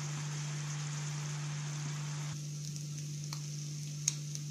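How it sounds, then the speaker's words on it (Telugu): Nettali fish frying in oil with curry leaves, a faint, steady sizzle over a constant low hum, quieter after midway, with a few light clicks and one sharp tap near the end, no talking. "ఫిష్ ఫ్రై చూసారు కదండి"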